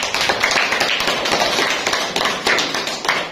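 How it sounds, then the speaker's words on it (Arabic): A fifth-grade classroom bursts into brisk, dense clapping for a pupil who won a weekly reading contest, many small hands slapping quickly and unevenly, loud and close throughout. "صفقوا عليها."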